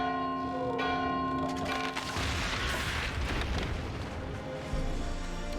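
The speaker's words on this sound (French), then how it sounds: "sonner la cloche, elle va tomber et du coup nous libérer des passages de partout" A large bell in the video game Valiant Hearts rings with a sustained, resonant tone, then gives way to a deep rumbling crash as it falls, loud and close.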